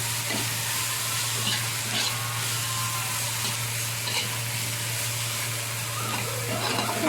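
Onion and green chili fry in a pan with a steady close sizzle, broken by intermittent stirring scrapes, over a constant low hum.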